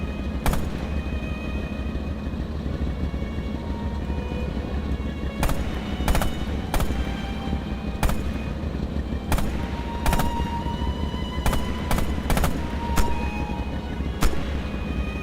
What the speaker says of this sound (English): Now use the single shot mode. Open fire.